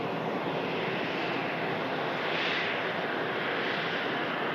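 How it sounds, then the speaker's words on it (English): An Emirates Airbus A380 landing at Manchester Airport produces a broad, steady roaring jet rush heard from a distance, swelling slightly midway through a few seconds of sustained engine noise. "Emirates Airbus A380 next to land."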